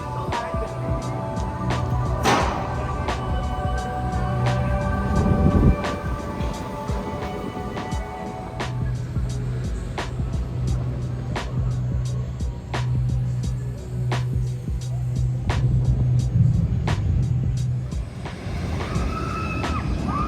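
The Ride to Happiness roller coaster at Plopsaland De Panne runs with a steady, loud rumble and repeated rhythmic clacks of the train on its track, sustained throughout the ride.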